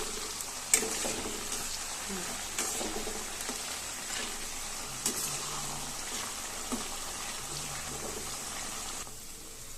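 Chicken pieces for restaurant-style chicken noodles fry in a pan and are stirred, producing a quiet, continuous sizzle with occasional scrapes and clinks.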